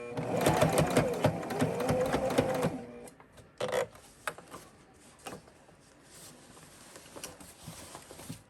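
A home sewing machine stitches a fabric stocking at a slow pace, a steady whirring run for about three seconds, then short scattered bursts and pauses as the stitching stops and starts.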